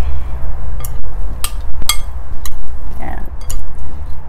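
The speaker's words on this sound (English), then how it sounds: "And now I am going to mix it really well." A spoon mixing a garbanzo bean salad with lemon and black pepper in a bowl, giving a series of close, irregular clinks and scrapes against the dish over a low background hum.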